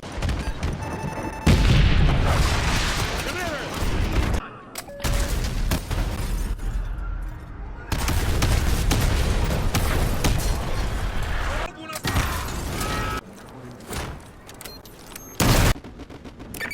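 Artillery fire and explosions in the video game Call of Duty: Modern Warfare 2, heavy booming blasts and rattling gunfire in repeated loud bursts, with radio chatter and voices over the combat.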